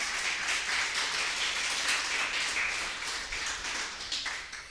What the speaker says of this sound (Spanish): Dale ese fuerte aplauso a nuestro Señor